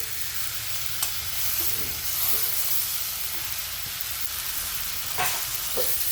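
A crumbled vegetable mixture fries in a pan for a rustic village-style bhaji, producing a dense continuous hiss of sizzling with a few soft stirring taps, close by and without speech.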